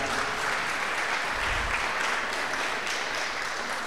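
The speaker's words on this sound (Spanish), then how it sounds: "Denle un fuerte aplauso al Señor porque hoy nos va a hablar" A church congregation claps loudly and continuously during a Spanish-language worship service, a dense, unbroken wash of applause filling the room.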